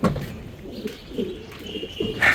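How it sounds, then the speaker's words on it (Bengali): A racing pigeon arriving at its loft coos softly nearby, a few low throaty coos in a row, with a brighter chirp near the end. "সাত নম্বর কবুতর আসছে"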